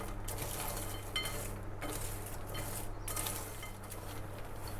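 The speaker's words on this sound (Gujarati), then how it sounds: "હવે બધા મસાલાને મિક્સ કરી લઈશું." Spices being mixed into fried cashew namakpara biscuits with curry leaves in a pan, soft scraping and light clinks of a utensil against metal over a steady low hum, quiet and close with no talking.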